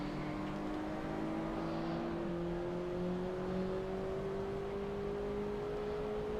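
Racing cars in a drag race in a racing game hold a steady, droning engine whine, the pitch climbing slowly as they accelerate together at a constant moderate loudness.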